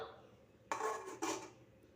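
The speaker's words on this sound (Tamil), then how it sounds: "ஒரு மூடியை போட்டு மூடிடுவோம். மூடியை போட்டுருவோம்." Two clinks of a lid being set onto a pot of simmering fish curry, one sharp clatter and then a second settling knock, close and fairly quiet with no talking.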